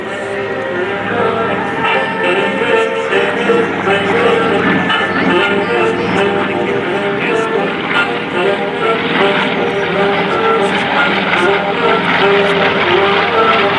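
B-25 Mitchell bomber engines at the 2023 JB MDL Power in the Pines air show, a loud, continuous propeller drone that stays strong and steady from start to finish.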